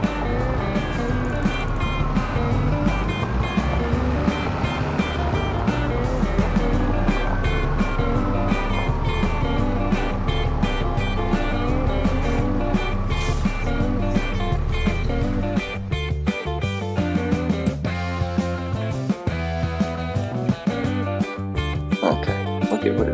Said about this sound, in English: Gotta love the sound of the big tractor.